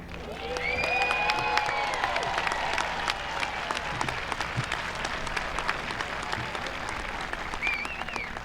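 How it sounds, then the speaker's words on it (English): Sustained applause from the audience at a 2021 high school commencement ceremony, dense steady clapping with scattered cheers and whistles that continues loud throughout. "everyone in the audience, please give them a well-deserved round of applause"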